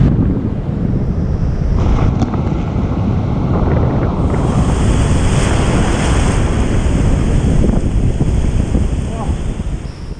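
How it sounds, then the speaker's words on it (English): Ocean surf rolls in at a windsurfing beach near El Palmar on the Spanish coast, a continuous loud wash of breaking waves mixed with heavy wind buffeting the microphone. "check out these waves"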